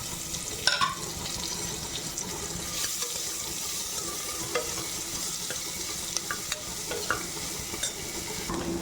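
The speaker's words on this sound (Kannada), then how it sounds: "ಹಸಿಮೆಣಸಿಕಾಯಿ ಬಂದಮೇಲೆ ಈರುಳ್ಳಿ ಹಾಕ್ಕೊಳ್ಳೋಣ." Onions frying in a pan with green chillies and hing: a steady, close sizzle runs under repeated scraping stirs and small clinks of a spoon.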